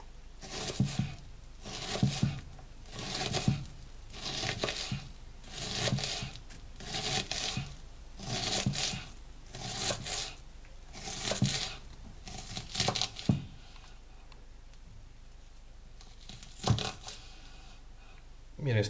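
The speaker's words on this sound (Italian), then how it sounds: "A questo punto posso tagliare la mia cipolla sempre tenendo." A knife dicing an onion on a cutting board: rhythmic clusters of close, crisp cuts repeating about every second and a half, then stopping toward the end, with a voice speaking at times.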